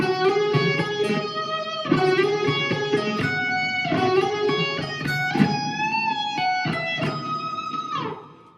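Clean electric guitar on the bridge pickup playing a melodic phrase with sustained, bright notes and bends, steady and close, ending as the last note fades out.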